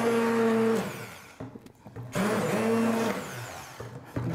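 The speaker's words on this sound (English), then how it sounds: "Just take an immersion blender" An immersion blender purees roasted butternut squash and pumpkin soup in a pot, a loud steady whir with shifting pitch that cuts off briefly, then resumes for another sustained burst before trailing off.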